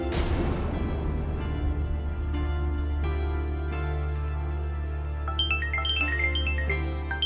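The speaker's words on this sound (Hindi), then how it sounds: "मम्मी का फोन।" A phone ringtone plays a simple repeating melody, its tones climbing higher toward the end, against a low steady hum.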